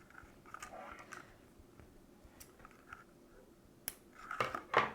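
Scissors snipping through string while making a homemade bird feeder, quiet handling noises followed by a couple of crisp, close cuts near the end, with no one talking.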